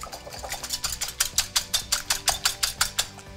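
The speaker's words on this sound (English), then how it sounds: "We're gonna whisk this all up together." Eggs being whisked in a bowl with water and seasoning for an omelet, a fast steady run of rhythmic beats, close and clear, no talking.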